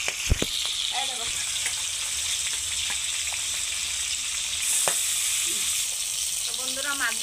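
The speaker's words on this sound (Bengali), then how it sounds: "তো বন্ধুরা মাছগুলি উল্টিয়ে পাল্টিয়ে সুন্দর করে ভেজে নিয়েছি।" Fish fry in hot oil in a pan, a continuous crackling sizzle with scattered sharp pops and spatter throughout, with a voice speaking now and then over the frying.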